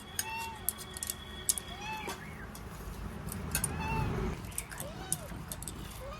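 A cat meows several times with short rising and falling calls over kitchen noise while a dish of prawns with taro greens is made. Voices talk quietly in the background.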